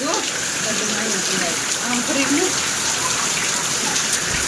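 Steady rain pours down nearby, a dense, even patter on surfaces, with faint voices murmuring underneath.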